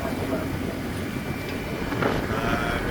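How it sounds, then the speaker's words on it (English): Strong 35-knot southwesterly wind roars steadily over a sailing boat heading out from Durban along the coast, a dense continuous rushing with microphone buffeting and the wash of the sea beneath it. "We've got a 35 knot southwester blowing."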